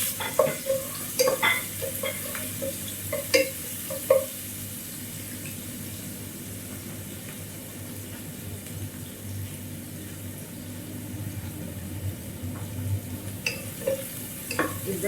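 Garlic frying in olive oil in a pan, a steady soft sizzle running throughout with occasional utensil clinks and stirring scrapes near the start and end, no talking.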